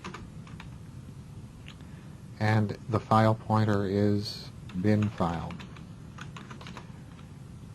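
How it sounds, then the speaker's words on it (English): Steady clatter of typing on a computer keyboard while C code for a file-handling program is written, quick clicks running throughout under a voice explaining the code. "I've been typing for quite a while without actually compiling"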